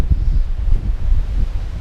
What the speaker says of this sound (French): oh la vache, le vent